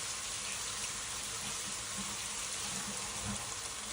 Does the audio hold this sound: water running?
yes